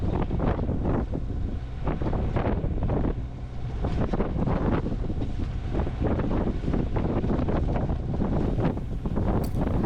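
Strong, steady wind roars across the microphone aboard a sailboat heading toward the Strait of Georgia, a loud continuous rush with gusty swells and no talk.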